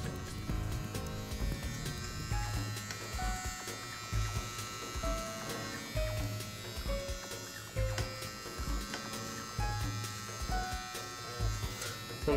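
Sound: Andis Outliner hair clipper running

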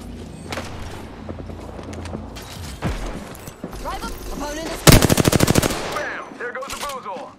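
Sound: gunfire in the video game Apex Legends

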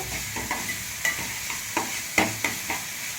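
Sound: onions frying with salt in a pan

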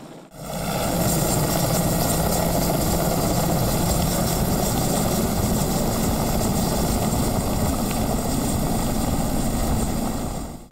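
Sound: helicopter flying

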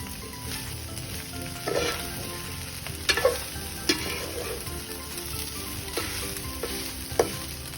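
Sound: stir-frying rice in a pan

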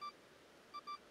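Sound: beeping phone object in Pokemon Legends: Arceus video game

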